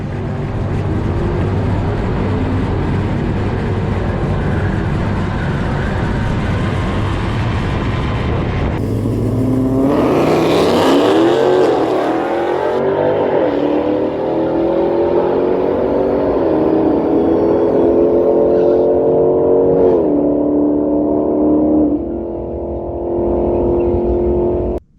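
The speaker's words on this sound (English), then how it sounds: "And that would be my 1968 Dodge Charger. We'd got it running, sounded good, did great burnouts." A 1968 Dodge Charger V8 roars steadily close up, revving hard through a loud burnout, its pitch climbing and swelling midway before settling back into a sustained, throaty drone.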